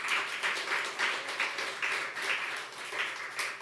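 A church congregation claps together during a sermon, a faint, steady rhythm of beats about twice a second heard from some distance.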